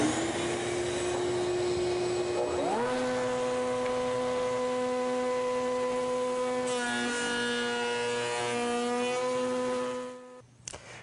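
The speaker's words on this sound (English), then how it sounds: "At this point, I'm ready to route the end of my rail." A router fitted with a Freud adjustable rail bit spins up to a high, steady whine as it cuts the end of a wooden door rail, then winds down and stops near the end.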